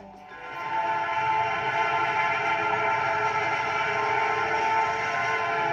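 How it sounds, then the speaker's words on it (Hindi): A toy train rolls around the grounds of Lucknow Zoo, giving a steady, loud rumble with a sustained whistle-like tone that runs unbroken throughout. "यहाँ चलने वाली टॉय ट्रेन में बैठकर एक बार इस उद्यान का चक्कर लगाइए"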